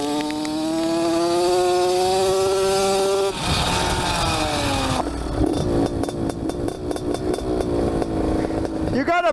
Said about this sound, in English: my boy up here is on the mini bike.